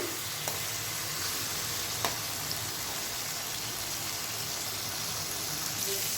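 Chopped ridge gourd and raw mango fry in a pan while being stirred now and then, giving a steady, even sizzle with a few faint scrapes throughout.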